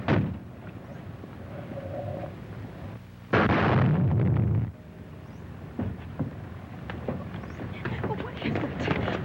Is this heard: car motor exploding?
yes